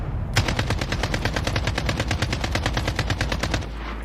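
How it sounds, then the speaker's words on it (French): Sustained rapid machine-gun fire rattles loudly and continuously for about three seconds as a battle sound effect in a tabletop role-play game, with no distinct explosions or voices. "vous entendez mitrailler, vous entendez des explosions."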